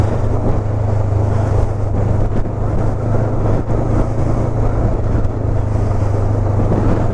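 Honda CB500X motorcycle (2019–2021 model) riding on an autumn road, a steady low engine drone mixed with constant wind rush for the whole stretch, with no talking.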